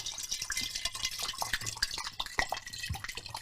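Water pours and trickles steadily through a funnel at close range, a light splashing stream with small drips, fairly quiet, with no speech.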